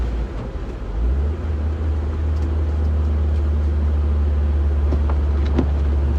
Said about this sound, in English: I'm getting pretty smooth at downshifting